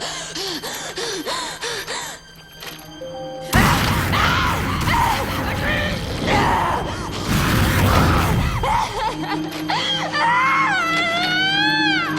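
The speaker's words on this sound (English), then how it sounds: "It's quite scary watching her scream in anger" A princess from the Avatar: The Last Airbender finale screams in anger, rising into long, loud, anguished cries over roaring, crashing effects and shifting tones, with wavering strained pitches at the end.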